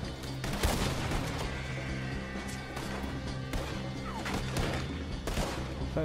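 Dense gunfire in a Red Dead Redemption 2 shootout, with repeated shots and crashes layered over one another in a busy, continuous battle mix.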